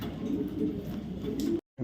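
A racer pigeon cooing close by, low soft repeated coos over a light steady background before the sound cuts out.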